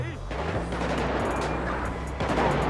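Gunfire in a video game set in a favela, with dense overlapping shots and blasts filling the whole stretch, loud and continuous, under a voice speaking.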